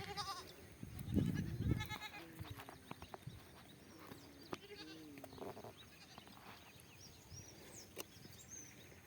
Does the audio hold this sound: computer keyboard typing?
no